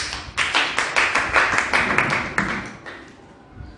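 A church congregation claps together in a steady, rapid rhythm, then the beat thins and slows toward the end, fairly loud in a room with no voices on top.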